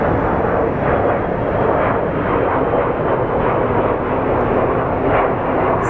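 A passenger airplane takes off at Phoenix Sky Harbor International Airport, with a loud, steady jet engine roar that holds broad and continuous throughout and has no voices over it.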